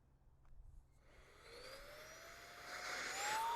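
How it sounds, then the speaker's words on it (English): A Tesla Model Y accessory vacuum cleaner starts up after a quiet moment, its motor whine climbing in pitch and loudness as it spins up, then holding a steady, airy drone close by. "they have this nice vacuum cleaner that I just used"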